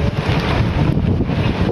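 Cool wind gusts at the hill station of Matheran, buffeting the microphone in a loud, continuous rushing roar that swells and eases slightly without any voices.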